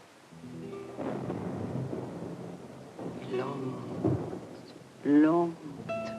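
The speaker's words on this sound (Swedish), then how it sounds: "Nu blir det åskväder." Thunder rumbles through a thunderstorm in low, rolling swells, with rain in the background and voices talking over it near the end.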